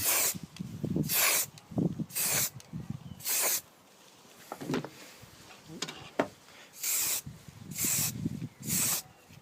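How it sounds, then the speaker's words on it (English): Short bursts of aerosol spray paint hiss on and off repeatedly onto a model tank hull, each lasting about half a second, with quiet handling noises and low voices between them. "start the spray just prior to it going on the model and keep it going until you reach the other end"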